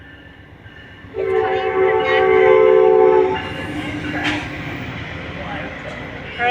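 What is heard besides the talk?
Amtrak train passing with horn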